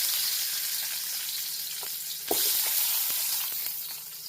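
Hot oil sizzles in a pan for a Telugu fish curry made with a large fish. The steady, fairly soft hiss continues throughout, broken by a brief clink or stir partway through.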